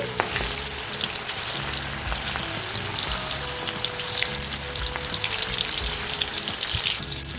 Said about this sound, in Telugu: ఇప్పుడు ఇందులోకి రొయ్యలను వేసేసుకుందాం ఒక్కొక్కటి వేసుకోవాలండి ఫ్లేమ్ మీడియం ఫ్లేమ్లో పెట్టేసుకొని చక్కగా ఫ్రై చేసుకోవాలి